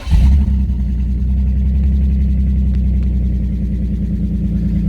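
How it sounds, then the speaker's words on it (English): A BMW Z car with its rear silencer box missing starts up and runs roughly. A loud cranking burst gives way to a steady, throbbing low engine note that continues alone for several seconds. "So I'm going to start the car, and as I say, it is going to sound rougher than you would expect"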